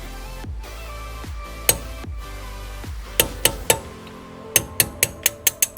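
A punch is hammered against a BMW E82 135i brake caliper's sliding pin: sharp metallic strikes, sparse at first, then a quickening series of ringing taps near the end, close and clear.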